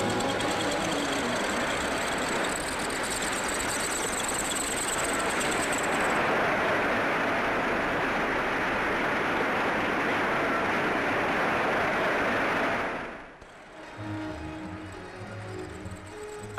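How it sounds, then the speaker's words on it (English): Automated multi-tool machine heads at work on a BMC car factory production line at Longbridge make a loud, steady mechanical din with whirring and clatter. The noise drops away sharply near the end. "Masses of machine heads carrying gangs of tools advance and withdraw with the precision of guardsmen on parade"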